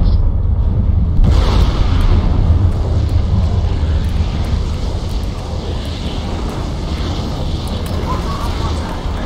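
A fixed-wing aircraft engine roars steadily and loudly in a Crysis multiplayer match, with a sharp boom near the start, while someone talks over the continuous drone.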